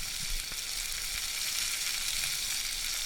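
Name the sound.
green chilli pieces frying in oil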